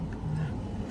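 A car being driven on the way to work, heard from inside as a steady, muffled low engine and road rumble with no clear speech.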